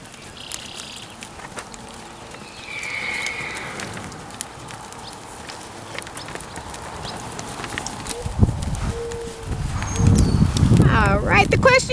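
Horse hooves during a posting trot in a riding lesson, a sequence of light, quick hoofbeats near and moderately loud, with scattered outdoor sounds and growing noise toward the end.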